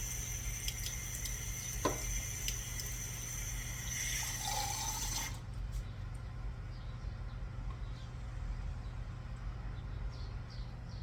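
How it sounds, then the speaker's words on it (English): Cold tap water runs into a measuring cup, a steady close pour that rises in pitch as it fills, then stops partway and leaves a low hum with a few faint drips. "Now you're going to add cold water till it reaches the 2-cup line"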